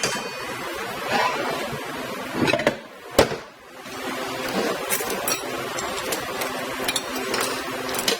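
A metal washer dropping from a 4R100 transmission clutch drum of a 7.3 diesel during teardown, a sharp close clink standing out among scattered metallic taps and workshop clatter.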